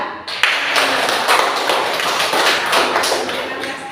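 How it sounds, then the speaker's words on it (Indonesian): Classroom group applauding presenters from group 3, a dense, steady patter of many hands clapping at close range for several seconds without talk. "Kita tepuk tangan dulu untuk kelompok"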